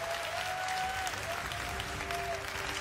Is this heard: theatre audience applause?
yes